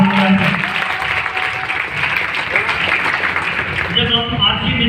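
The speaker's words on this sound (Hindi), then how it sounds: "ताली जोरदार बजाएं" Audience applause at a business seminar, sustained dense clapping running throughout at steady loudness, with a voice talking over it.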